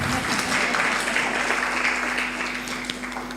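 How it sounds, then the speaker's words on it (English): Audience at a university report launch claps for a speaker, a full, fairly loud round of applause that gradually tapers off, with a steady tonal hum underneath. "Please clap for her"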